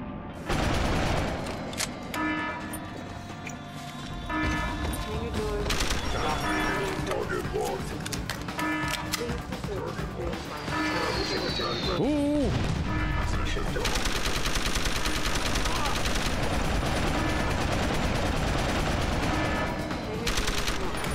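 A machine pistol firing during a firefight in Deus Ex: Human Revolution, fast rattling bursts layered over loud game combat noise and mechanical clanks, with a person talking over much of it.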